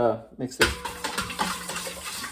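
A utensil scrapes and knocks around a bowl, stirring kosher salt into sourdough bread dough, with rhythmic clattering strokes close by after a brief moment of someone speaking.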